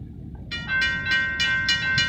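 A CSX mixed freight train passing near a road crossing in Lakeland, with a loud rhythmic series of about six metallic clanks or bell-like rings over a low rumble from the rails.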